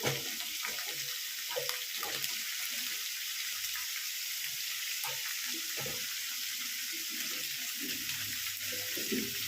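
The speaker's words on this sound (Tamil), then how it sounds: "கத்திரிக்காயை சேர்த்துட்டு நல்லா கிளறி விட்டுக்கலாம்" Eggplant stirred in a pan with fried ginger, garlic and curry leaves, a steady hissing sizzle with soft intermittent scraping, alone and fairly close.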